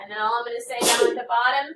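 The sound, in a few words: sneeze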